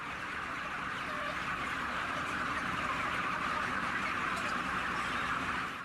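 Dense, constant chatter of a huge crowd of chickens packed inside a poultry production shed, a continuous wall of clucking and rustling with no single bird standing out and no talking.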